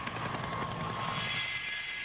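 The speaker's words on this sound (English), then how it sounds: "Italy's Augusta Bell helicopter is powered by twin Bristol Siddeley Gnome engines" An Agusta Bell helicopter powered by twin Bristol Siddeley Gnome turbine engines drones steadily at the 1966 Farnborough air show, a continuous turbine whine over a low rotor rumble for a couple of seconds.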